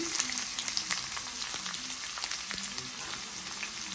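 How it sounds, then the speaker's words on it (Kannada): Chopped onion frying in oil with greens while making capsicum lemon rice: a quiet, steady sizzle with light crackles and soft stirring scrapes throughout. "ಕಟ್ ಮಾಡಿರುವಂತಹ ಆನಿಯನ್ ಹಾಕೋಬೇಕಾಗುತ್ತೆ"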